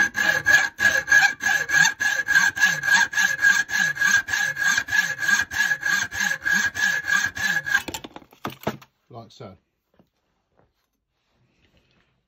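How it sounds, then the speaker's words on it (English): A hacksaw cuts the end off a Lucas 45/59D distributor shaft with steady back-and-forth strokes for about eight seconds, close and rhythmic, then a few scrapes before silence. "So the first job is to use a hacksaw"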